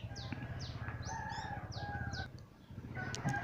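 Several short rooster crows and clucks from nearby fowl, repeating over a low droning background.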